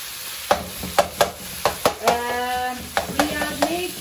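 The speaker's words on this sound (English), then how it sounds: "We are making tawa fry keema." Minced keema meat frying on a tawa griddle, a steady close sizzle broken by a run of sharp spatula scrapes and taps at a regular beat, with no talk.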